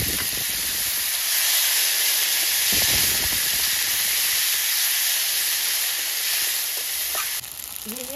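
Black cumin seeds and whole bay leaves frying in hot oil in a pan, producing a loud, continuous sizzling hiss with occasional stirring scrapes, close up and without talk until the sound shifts at the very end.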